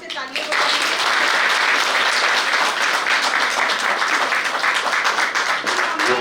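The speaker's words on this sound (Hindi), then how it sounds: "तो एक बार इस महान विभूतियों के लिए जोरदार से तालियां बजाइए।" Vigorous applause from a large audience at the Harihar meditation festival rises sharply and holds as a loud, continuous roar of clapping.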